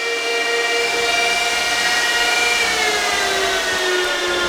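Space heater fans blow warm air through a basement, making a steady, loud whooshing hum with faint tonal whine lines that hold evenly throughout, no talking.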